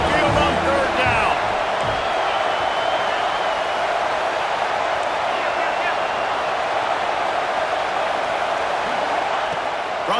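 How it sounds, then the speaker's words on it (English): A stadium crowd in EA Sports College Football 26 roars steadily as the Alabama Crimson Tide faithful make noise on third down at Saban Field, a dense, continuous, loud wash of sound. "The Tide crowd rolling noise down onto Saban Field on 3rd down."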